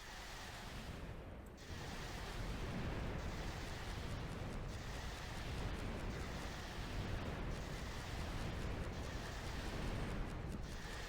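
Rockets are fired at a Strider in Garry's Mod, giving dense, continuous rumbling blasts and explosions that pulse repeatedly over a steady roar.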